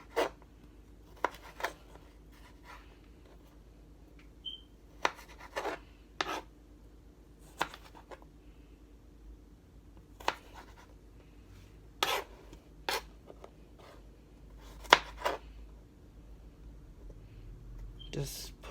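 Knife cutting ingredients into very thin slices for spicy chicken lo mein, giving sparse sharp cuts and scrapes spread unevenly across the stretch, close and fairly quiet, with quiet kitchen background between strokes.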